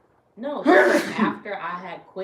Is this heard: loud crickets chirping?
no